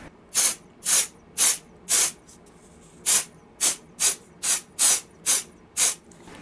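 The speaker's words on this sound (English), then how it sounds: "And now apply a release agent." Release agent sprayed onto a mold in short aerosol bursts, about a dozen sharp hissing puffs in quick succession with a brief pause midway, close and fairly loud, no voices.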